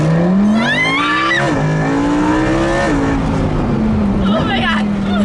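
A Lamborghini LP 610 accelerates hard, its loud close engine note rising through gear changes with brief tire squeal as people inside talk and exclaim over the roar.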